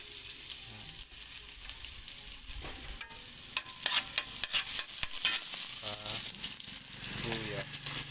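Garlic sizzles in a little cooking oil in a pan, with a steady soft frying hiss and scattered stirring clatter.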